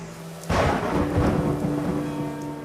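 A summer thunderstorm: a sudden loud thunderclap breaks out and rolls on, with steady heavy rain hissing beneath it.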